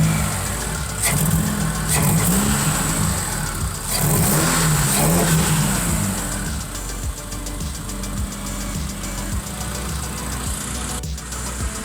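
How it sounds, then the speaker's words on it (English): A Subaru engine revs in quick bursts over a steady idle, with throttle blips rising and falling up close; the car is being worked on and idles roughly afterward. "Let's give it a quick rev."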